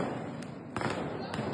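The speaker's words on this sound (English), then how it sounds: "As police officials raided the mosque, fireworks were used against them." Fireworks set off against police during a clash at Al-Aqsa Mosque, heard as several sharp bangs and crackles over a dense background of crowd noise and voices.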